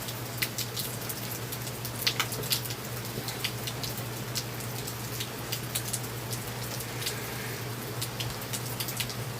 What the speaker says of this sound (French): Il mouille de plus en plus.